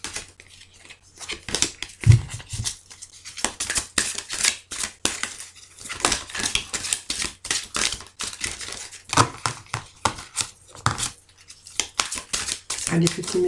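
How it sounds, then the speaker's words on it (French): Tarot cards being cut and drawn make soft repeated shuffling, snapping and crinkling rustles up close, under steady French speech. "je vais couper. Allez, je vais juste prendre deux autres cartes."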